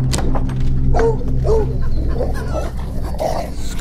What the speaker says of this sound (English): Stop it, Baxter, damn dog!